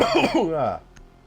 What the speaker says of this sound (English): I'm having a cough